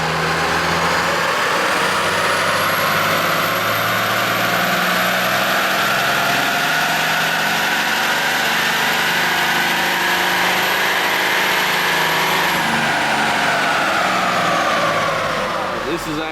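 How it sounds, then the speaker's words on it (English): A 2005 Dodge Cummins diesel pickup engine runs steadily near the microphone at a loud, constant idle, a dense unbroken mechanical drone with a faint rising whine across the middle. "We're gonna get the truck started back up"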